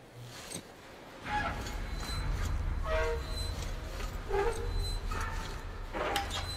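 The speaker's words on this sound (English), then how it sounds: "it wonderfully tells me how to drive around in the train" Train driving in Metro Exodus, a steady low rumble of the rolling train with scattered mechanical clanks and squeals on top, moderately loud and continuous with no talk.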